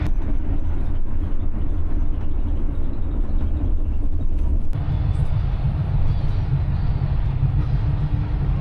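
Brisbane to Sydney XPT passenger train running, a steady low rumble and rolling drone heard from inside, continuous throughout with a slight shift in tone partway through.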